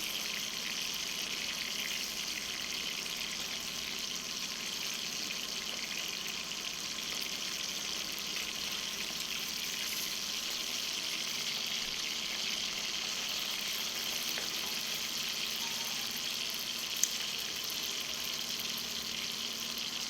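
Hilsa fish pieces frying in a pan make a steady, even sizzle that hisses on without a break for the whole stretch, at moderate volume with no voices.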